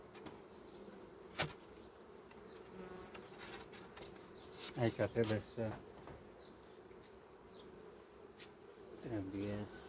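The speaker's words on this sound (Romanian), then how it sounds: "Albinele își reiau lucrul." Honeybees buzz around an open hive as a beekeeper works, a soft continuous drone of many bees close by, with a voice speaking briefly over it.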